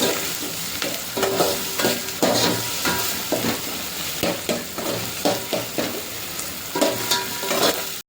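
Sizzling of tomatoes frying in a pan, with repeated scraping stirs at a steady rhythm, close and fairly loud throughout.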